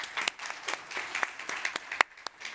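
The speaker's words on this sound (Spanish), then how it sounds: "Un aplauso para ellos, por favor." Conference audience clapping, a moderate scatter of individual hand claps with a few sharper close ones, thinner than full applause and fairly quiet overall, with no talking.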